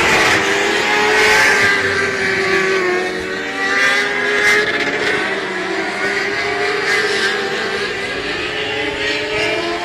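Dwarf race cars race at Texana Raceway Park, several engines roaring and droning together with rising and falling pitch as they lap, loud and continuous throughout.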